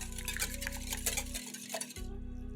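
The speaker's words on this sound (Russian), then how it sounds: "Перемешиваем венчиком." A whisk stirs batter made with warm kefir in a bowl, a steady close scraping and sloshing that runs continuously with a low hum beneath, alone without talk.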